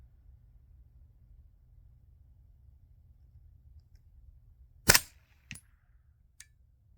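Three suppressed subsonic 9mm shots from an AR with a 16-inch barrel and R9 silencer, a sharp loud crack followed by two fainter, shorter reports over low steady background rumble.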